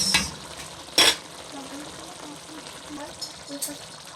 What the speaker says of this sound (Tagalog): Hayaan lang nating kumulo para sipsipin nung karni yung mga tinimpla natin